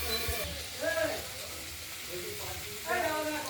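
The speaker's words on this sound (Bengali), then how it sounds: "ঢাকনা খুলে আমরা একটু নাড়াচাড়া দিয়ে নিলাম ভাপে ভাজা হবে তেল দিয়েছি" Flat beans fry in oil in a kadai with mustard and green chili, giving a steady close sizzle. Scraping stirs come in two bursts, while someone talks over the cooking.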